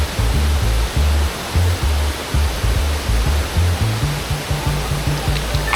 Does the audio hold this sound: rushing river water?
yes